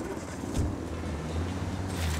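A car engine in Ghost Recon Wildlands, a steady low drone of a vehicle running at even revs, close and continuous, with a brief bump partway through.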